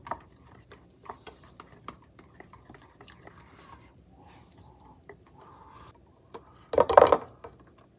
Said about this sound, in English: some drops of white food coloring. Now you just mix this together